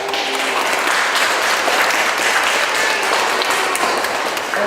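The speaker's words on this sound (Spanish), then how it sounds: "Un aplauso para los nuevos cristianos" Steady, dense applause from a church congregation for two newly baptized girls, a continuous wash of many hands clapping at close range with no talking over it.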